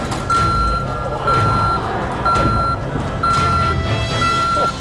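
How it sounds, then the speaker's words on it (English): A truck's reversing alarm beeps repeatedly in a steady rhythm of long tones at moderate distance, over a background of engine rumble and crowd noise. "I hear the beeping around me."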